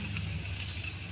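Spices frying with meat in a pan, a short burst of steady close sizzling with faint crackle and no voices.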